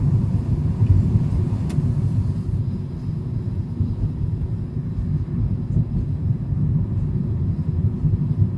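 Car engine accelerating on the road during a driving lesson on an exam route in Khabarovsk, a steady loud low rumble with rising drone throughout, no talk.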